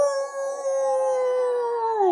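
A voice imitates a wolf howl: one long, sustained, mournful tone that slowly sinks in pitch at the end.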